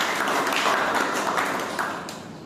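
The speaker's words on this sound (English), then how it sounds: "A big round of applause." Toastmasters club meeting audience giving a round of applause, dense steady clapping from many hands in a room that fades slightly toward the end.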